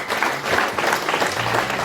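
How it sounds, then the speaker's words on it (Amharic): An audience at a church service applauds loudly and close by in a dense, steady wash of clapping, with a few faint voices mixed in. "አጨብጭቡላት"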